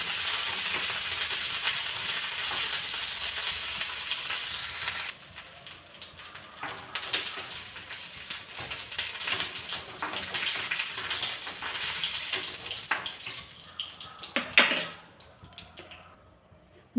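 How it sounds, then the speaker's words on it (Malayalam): Raisins frying in ghee in a hot pan for Thalassery chicken biryani, a steady hissing sizzle that drops partway through, then comes back with crackles and a brief surge before fading. "കിസ്മിസ് നമ്മൾ നന്നായിട്ട് വറുത്തെടുക്കാം."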